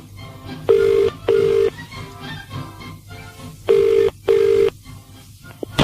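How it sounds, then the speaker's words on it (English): A telephone ringing tone heard down the line after a call is dialled, giving two double rings with a pause between them, clear and steady over faint background hiss, with no talk. "let's give them a call and see if we can talk to Grumpy"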